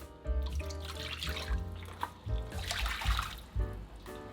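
Tap water running and splashing into a cooking pot, about two cups measured in for rice, with several separate pours and gurgling bursts close by, no talk.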